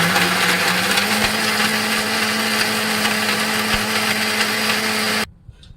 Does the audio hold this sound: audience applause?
no